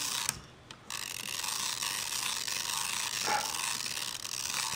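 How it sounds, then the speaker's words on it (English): Film advance crank being turned on a Hasselblad film magazine, a quiet mechanical ratcheting and gear whir running steadily after a brief click near the start, close and alone. "What I mean with this is you crank the film"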